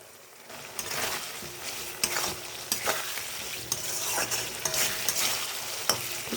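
Fried potatoes being stirred into a cooked-down spice masala in oil for a green banana kofta curry, giving a steady close sizzle with repeated scraping stir strokes and clinks throughout.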